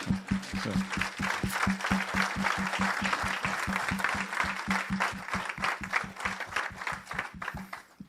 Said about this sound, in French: on acclame la parole du Seigneur